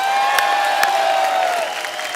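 A studio audience on a comedy talk show gives loud, continuous applause and cheers as Olympic hockey players are welcomed onto the stage. The clapping is dense and sustained and eases slightly toward the end.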